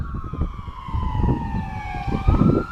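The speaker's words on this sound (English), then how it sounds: "okay, hold on, guys, sirens." A fire truck siren passes nearby, its wailing tone sliding down and then back up over steady traffic rumble, loud and continuous throughout.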